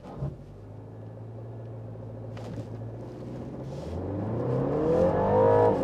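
A BMW 330e plug-in hybrid launching hard on a wet road, its engine rising from a steady low drone into a swelling, climbing roar with whirring drivetrain tones, heard from inside the car and growing louder toward the end.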